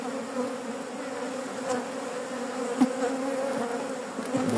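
Honeybees hum steadily at an open colony while frames of brood and stores are being handled, a dense close buzz that holds throughout with small swells.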